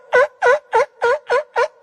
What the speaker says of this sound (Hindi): अब ये है सील।